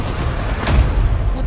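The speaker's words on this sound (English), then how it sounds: "Gunfire." Gunfire in a video game, a loud, dense crackle of shots and booming blasts filling the short clip, with one stronger burst near the middle.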